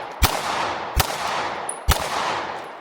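Three loud pistol shots from a Canik MC9 LS 9mm handgun, fired at an even pace about a second apart, each a sharp close crack followed by a ringing outdoor echo, with no voices.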